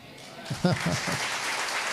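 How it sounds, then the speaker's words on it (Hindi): A church congregation claps together in a brief burst of dense applause, with a voice speaking over the start before the clapping continues steadily. "ऐसी आनी चाहिए ताली मजबूती से"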